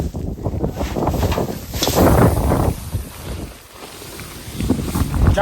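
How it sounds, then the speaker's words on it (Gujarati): Gusty outdoor wind buffeting the microphone on a farm where a tractor is in use, loud rumbling bursts that rise and ease over a few seconds, with brief faint voices in the background. "પવન છે"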